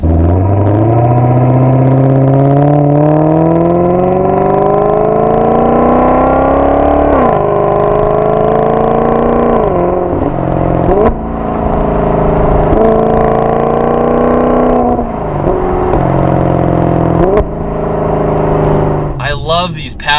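A Maserati GranTurismo Sport accelerating from inside the cabin, the loud engine note rising steadily through the revs, dropping briefly at gear changes and climbing again, with a person talking over it.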